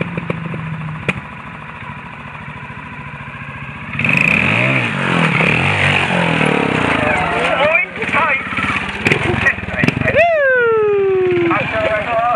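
A trial motorcycle at a Japanese national trials event revs on slippery ground as the clutch engages, its engine note climbing and falling in loud, close bursts with sharp throttle blips toward the end.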